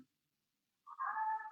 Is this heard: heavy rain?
no